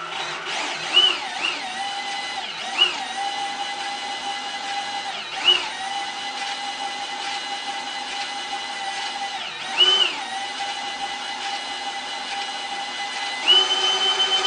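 A homemade 6x48 inch belt sander with a sanding belt fitted runs with a steady motorized whine. Sharp ticks recur every few seconds, probably the belt seam passing over a loose 12 mm shaft in a 1/2 inch hole.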